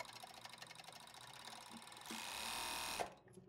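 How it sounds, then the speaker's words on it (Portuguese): An overlock sewing machine stitches fabric for a long spring dress with a steady, close mechanical whir that speeds up slightly, then stops abruptly near the end. "Coloca essa peça aqui em cima, traz na máquina de overlock"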